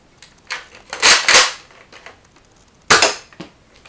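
A Nerf blaster fires in close, sharp bursts: a pair of loud snapping shots with smaller clicks around them, then another shot after a pause.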